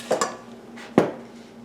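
Butter and sugar are creamed in a bowl for maple pudding chômeur, making two quick clinks of a utensil against the dish followed by one sharper knock a moment later, close and fairly loud with no talking.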